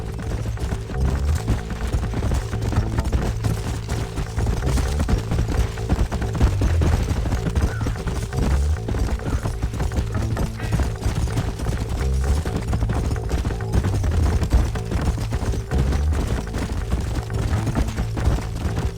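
Horses' hooves in the video game Red Dead Redemption: steady, continuous clip-clopping of riding horses throughout, loud and close over a constant low droning background.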